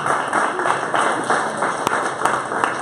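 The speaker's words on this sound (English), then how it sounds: "Big round of applause, please." Audience clapping at a Bitcoin meetup in San Francisco, a steady dense patter of many hands that holds fairly loud and even from start to finish, with a few sharper claps standing out.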